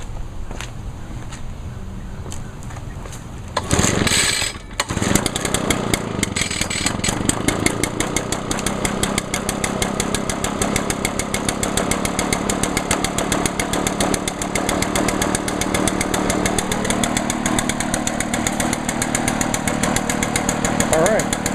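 A small two-stroke leaf blower engine fires up after its carburetor is reinstalled, then runs steadily and loudly with a buzzing rasp; brief sputtering precedes the start, and no voices are heard over it.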